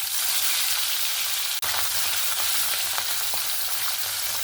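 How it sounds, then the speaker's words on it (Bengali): Tangra catfish frying in a small amount of hot oil, a steady close hiss of sizzling with a brief sharp knock partway through, unbroken and fairly loud. "তেল গরম হয়ে গেছে, এবার মাছগুলো দিয়ে দিচ্ছি।"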